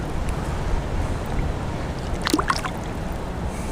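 Strong wind roars steadily across the open water while fishing from a boat on a pond, a broad, constant rush with a few faint splashes and knocks mixed in.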